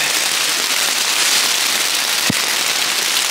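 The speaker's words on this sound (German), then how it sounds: "Warum muss das jetzt in Strömen regnen?" Steady, dense hiss of heavy rain pouring down, with one brief thump partway through; no voices.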